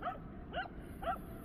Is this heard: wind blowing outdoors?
no